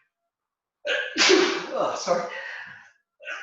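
A man gives one sharp, close sneeze with a quick breathy follow-through in a quiet room during a talk, followed by a brief spoken apology.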